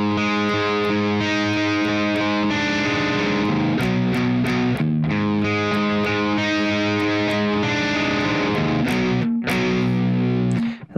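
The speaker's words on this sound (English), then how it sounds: "the last couple of times with a distorted guitar" An electric guitar played with heavy distortion, sustained crunchy chords and riffs on a part from a song, loud and continuous with brief rhythmic breaks, no talking.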